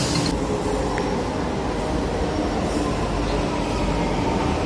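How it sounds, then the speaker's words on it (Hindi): Metro train arriving at Kaushambi metro station in Delhi, a loud continuous rumble of wheels and rail noise with faint squeals as the carriages roll in close by. "मेट्रो लेने वाली है, मेट्रो आने वाली है, मेट्रो आ गई है"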